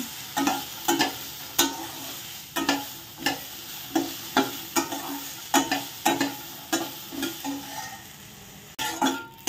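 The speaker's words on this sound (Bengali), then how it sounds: "ফার্স্টে আমি পিনাটগুলো হালকা করে একটু ভেজে নেব।" Peanuts fry lightly in a pan while a utensil stirs them, giving a soft sizzle broken by regular scraping and clinking strokes, close and moderately quiet, with no voices.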